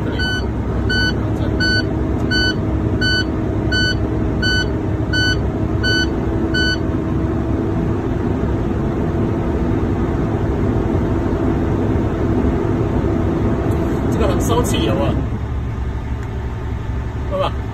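A truck engine runs at raised revs to build air brake pressure, a loud continuous low rumble, with a string of evenly spaced high reversing-style beeps through the first several seconds and a brief hiss near the end.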